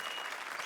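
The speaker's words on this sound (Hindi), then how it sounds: "तालियां बजाओ।" Studio audience at a Hindi TV comedy show bursts into dense, steady applause, loud and continuous across the brief moment with no voices over it.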